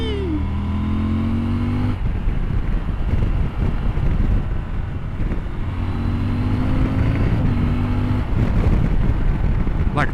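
CF Moto 1000 MT-X (Ibex 950) motorcycle engine pulling hard past 4,000 RPM on a road ride, a loud steady drone with rising pitch sweeps, buried under heavy wind buffeting on the microphone.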